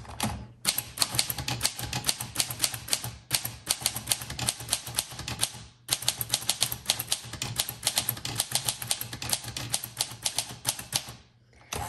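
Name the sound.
1934 Corona Sterling Flat Top typewriter typing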